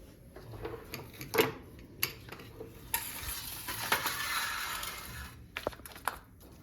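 Ginger garlic paste and onion go into hot oil in a pan for a street food recipe: utensils clink and scrape, then a sustained sizzle rises in the middle and fades with a few final clatters.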